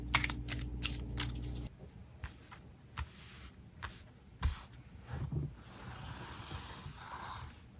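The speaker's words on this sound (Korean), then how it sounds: "그래도 추가 카드를 더 뽑아보도록 할게요." Tarot cards are shuffled and drawn: a burst of rapid riffling, then scattered soft flicks and slaps as cards are handled, quiet and close, with no talking.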